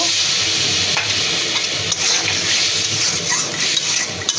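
Shrimp and bhuta shak greens with turmeric, chili, salt, coriander powder and hot water sizzle loudly in a pan, with steady frying hiss and occasional stirring scrapes close up.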